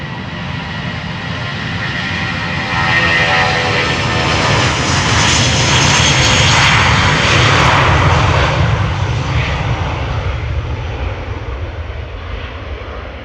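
SAS jet on flight 822 to Oslo spools its engines up at Amsterdam Schiphol, a loud, broad roar that swells toward the middle and holds steady, close and dominant with no talk.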